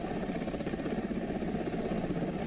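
An Air Force helicopter arriving for a rescue airlift: a loud, steady rotor chop with a rhythmic thudding pulse and engine whine, close and continuous, with no voices over it.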